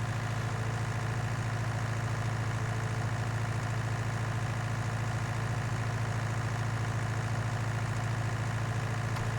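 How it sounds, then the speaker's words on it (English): Tractor engine idling in the Farming Simulator 19 video game, a steady low droning rumble that holds constant and loud with no talk over it. "It is tractor not built for speed."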